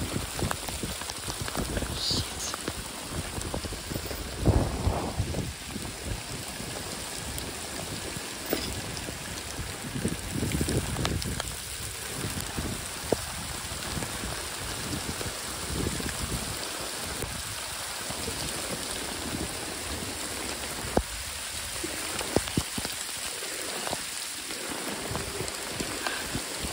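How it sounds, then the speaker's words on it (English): Rain and hail falling outdoors at a wood-milling site, a steady dense patter covering the whole stretch with a few sharper impacts, close and fairly loud with no talking. "Starting to feel like hail."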